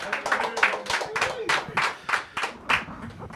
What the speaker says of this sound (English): Round of applause for the one and only Masta Ace